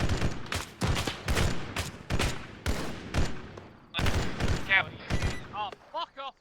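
Gunfire cracks out in sharp, irregular bursts at an ODST milsim field training exercise, loud and close, some shots rattling in quick clusters, with voices calling out between the volleys.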